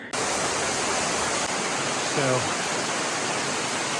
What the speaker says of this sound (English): first waterfall that we've seen